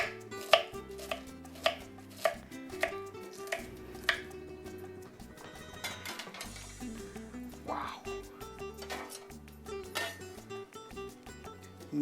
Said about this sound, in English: I'll continue chopping up my cabbage